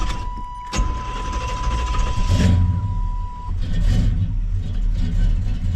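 A 1987 El Camino gives a steady electronic beep that sounds continuously for a few seconds over background rumble and handling noises, with a sharp knock near the start.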